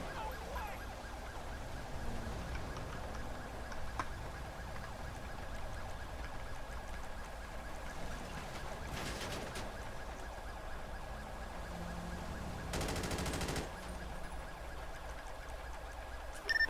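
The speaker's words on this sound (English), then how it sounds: "Sounds to be automatic gunfire on my vehicle." Sirens from an emergency vehicle in the video game GTA V wail steadily through a roleplay police scene, with a couple of short sharp bursts cutting in and no talking.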